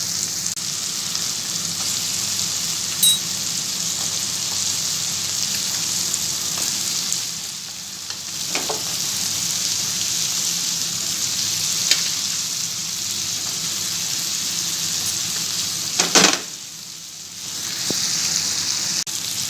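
Vegetables sizzle steadily in a hot pan of spiced oil while cooking for idli sambar, a dense continuous frying hiss with occasional stirring scrapes and brief dips, close and loud with no talking.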